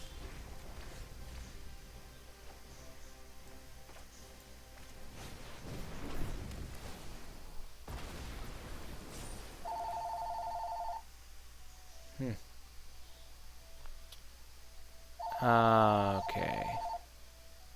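A landline telephone gives two short electronic ring bursts, faint and somewhat distant, while people talk quietly around it.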